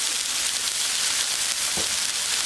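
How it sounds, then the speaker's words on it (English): A ribeye steak sizzles on a hot grill, giving a loud, steady, hissing crackle throughout with one brief low thump partway through. "Nice sizzle to begin that cook right there."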